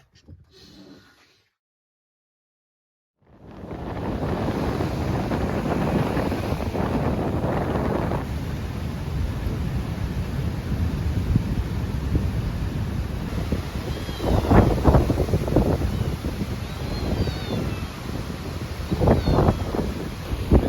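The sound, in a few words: strong wind as a storm approaches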